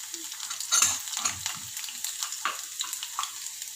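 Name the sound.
ginger and garlic frying in oil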